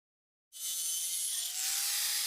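A 1.5-inch iron pipe being cut, a steady loud grinding rasp starting abruptly after a brief silence and continuing without pause.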